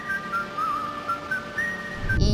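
A person whistles a wavering tune up close, the clear thin notes sliding between pitches over a low room hum before a sudden rustle at the end.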